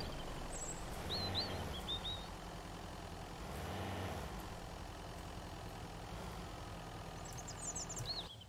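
In the Mist Survival video game, a pickup truck's engine runs at a low, steady rumble as the truck is turned around, with bird calls chirping faintly in the background.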